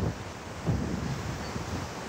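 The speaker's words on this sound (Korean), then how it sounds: "바람이 너무 세?" Strong wind from Typhoon Maysak roars steadily as a dense, low rumble with a gust swelling near the start, loud and continuous with no voices.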